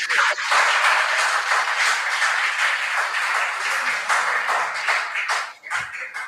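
An audience applauds a school quiz contest team, a dense, steady burst of many hands clapping that holds for several seconds before tapering off.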